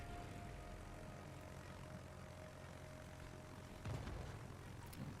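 Fighter planes drone steadily in a naval warship video game, a continuous low propeller engine rumble that stays even throughout, with a brief louder thump near the end.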